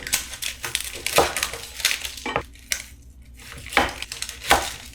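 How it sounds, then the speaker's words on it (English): A knife slices a whole onion in half on a kitchen board while cooking a homemade seafood boil, giving a few close, sharp cutting and knocking sounds with clinks of kitchen utensils between them. "So I'm gonna cut my onion in half."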